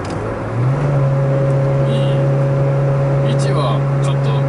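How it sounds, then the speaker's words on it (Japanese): Car engine held at a steady pitch during a manual gear downshift on an ordinary road, a sustained droning hum with a rise in revs early on, continuous and close throughout. "同じ速度でシフトダウンしてってます"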